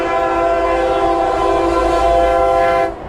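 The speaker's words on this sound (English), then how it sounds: "we're getting ready to go by a train" A passing train sounds its horn close by, a loud, sustained multi-tone blast over a steady rail rumble that cuts off near the end.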